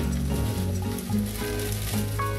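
Steady, dense sizzling of food frying in hot oil fills the whole stretch, with a faint tonal background underneath.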